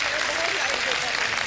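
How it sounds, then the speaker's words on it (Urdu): Studio audience clapping steadily for a young boy on a Ramadan iftar television show, a dense continuous patter with voices mixed in. "بہت سی تالیاں ہونی چاہیے حسنین کے لیے, گڈ بوائے کے لیے."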